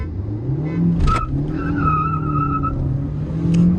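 Two manual cars, a Kia Sonet and a Hyundai Creta with 1.5-litre petrol and diesel engines, launch hard in a race, with engine roar rising, tyres squealing and a rising whine passing nearby, loud and without speech.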